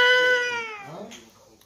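A pet cat gives one long, loud, drawn-out meow close by that falls in pitch and fades into a quieter trailing sound.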